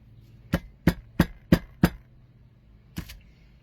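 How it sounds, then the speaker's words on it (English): A mortar and pestle is handled, producing sharp, hard knocks close by: five evenly spaced strikes, a short pause, then one more, with quiet between them and no speech. "I'm going to grab my mortar and pestle here."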